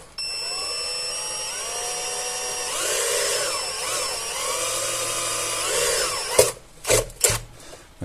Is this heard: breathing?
no